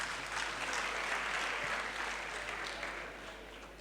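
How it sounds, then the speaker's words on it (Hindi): Audience applause at a youth motivational gathering in Rajasthan, a steady dense wash of clapping from a large crowd that holds loud throughout and tapers slightly toward the end. "देखिए आओ, ताली बजाइए एक बार जोरदार।"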